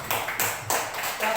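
An audience applauds at a school positive-culture dissemination session, with steady rhythmic clapping pulses in a reverberant room.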